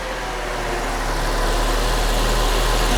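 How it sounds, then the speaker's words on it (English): A car's engine runs at a steady idle in a home garage during a do-it-yourself oil change and vehicle inspection, a constant low hum with no voices. "So let me get the car running."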